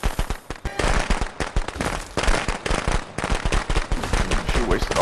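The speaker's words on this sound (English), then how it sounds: "all those fireworks. Oh my, and the gun." Rapid crackling bursts of fireworks mixed with sharp gunfire pop densely and loudly in Friday the 13th: The Game, a near, continuous barrage with faint voices underneath.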